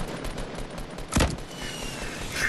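A single heavy rocket launcher blast in the Fortnite video game, a sharp broadband burst near the middle of the moment rising over steady game ambience and scattered distant clatter.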